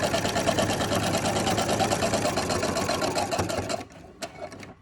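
A Brother SE400 sewing machine fitted with a walking foot runs a steady, loud, fast mechanical stitching whir for about four seconds, then stops, leaving a few faint clicks and handling noises.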